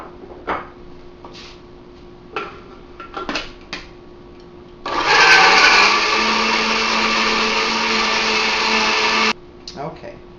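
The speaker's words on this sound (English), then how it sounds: "I'm going to do everything right here in my blender." A countertop blender whirs loudly for about four seconds as it blends eggs, starting abruptly and cutting off, between quieter kitchen clatter and brief sounds before and after.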